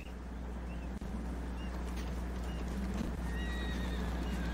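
A horse in a video game whinnies and its hooves clip-clop steadily, with a couple of short neighs rising over a constant low engine-like drone and game ambience.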